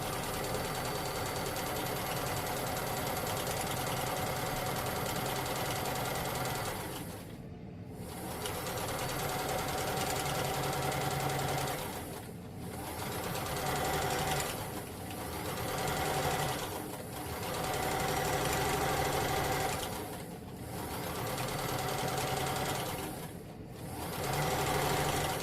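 A sewing machine stitches a hem in a continuous, even whir with a rapid mechanical chatter. It runs in several long bursts, and each one is broken by a brief pause.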